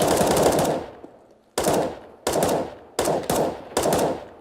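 Automatic gunfire in the video game CS:GO, close and loud, with short sharp bursts: one long spray, then several quick volleys that each ring off, with no voices.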